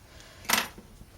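A single quick, crisp snip up close as scissors cut through blue crochet yarn, with near silence before and after.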